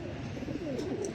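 Low, soft cooing of a pigeon close by, a rolling throaty call repeated in a smooth steady rhythm.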